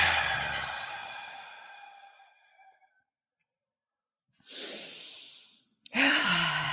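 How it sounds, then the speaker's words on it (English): A person draws a long, deep breath in, close and clear, which fades into a pause before a shorter airy breath and then a sudden sharp exhale follow. "Take a deep breath in"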